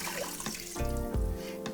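Chicken stock and water poured through arborio rice held in a strainer over a pot, a close splashing pour that swells into a fuller gush in the middle and then trails off.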